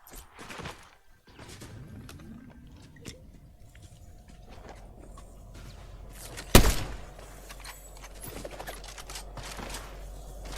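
Gunfire in a Fortnite Zero Build match, a few scattered shots with one sharp, loud blast standing out midway, set among quieter game sounds, footsteps and mechanical clicks.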